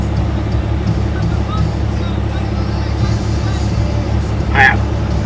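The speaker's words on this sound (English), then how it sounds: "The truck's too loud." Loud, steady engine rumble heard from inside a truck cab during a drive near the beach, a constant low drone with someone talking over it.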